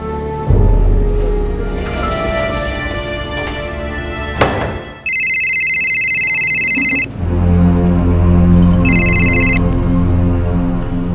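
A telephone rings in two loud electronic bursts, each about two seconds, between stretches of loud, busy, tonal background sound at an accident scene.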